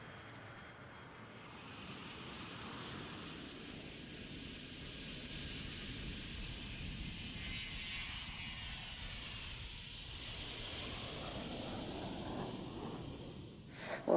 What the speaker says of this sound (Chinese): 一架战机在人们紧张期待的目光中飞上天空，歼十一 B 的首飞终于开始